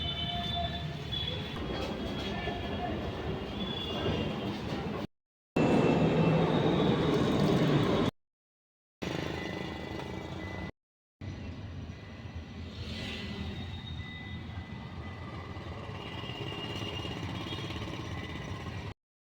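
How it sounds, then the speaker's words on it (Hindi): Metro train at Botanical Garden metro station, a continuous rumbling roar of the train interrupted by a few brief silent gaps, with faint tonal hums riding on top and no talking. "दोस्तों ये है बोटैनिकल गार्डन, मेट्रो स्टेशन।"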